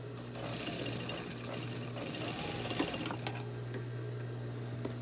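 A sewing machine stitches pleats into a homemade hospital mask, its motor giving a steady, close whir with a fast rhythmic needle clatter that runs for the whole stretch, with no talking.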